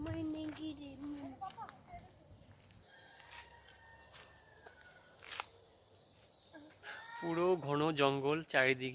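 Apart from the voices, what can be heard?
chicken calling in the forest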